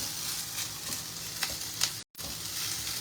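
Vegetables for a mushroom frittata sizzle in a frying pan while being quickly stirred, a steady hiss with light scraping taps and a brief dropout near the end.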